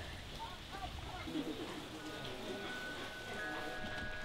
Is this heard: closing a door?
no